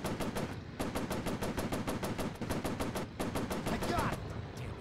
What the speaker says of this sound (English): Damn machine guns. They're overheating too fast.